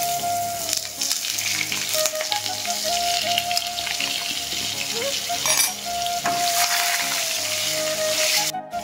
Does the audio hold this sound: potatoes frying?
yes